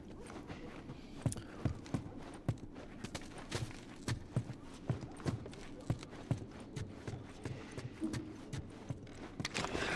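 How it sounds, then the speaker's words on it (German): Horse hooves clip-clop at a steady walking rhythm in the video game The Last of Us Part I, each step a crisp, evenly spaced knock over a soft background. "Pferde! Hotte Hüß!"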